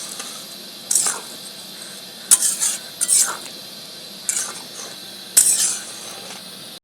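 Ghugni cooked with mutton fat is stirred in a pan, a spoon scraping the metal in several short bursts with soft sizzling between them, close and clear with no talking.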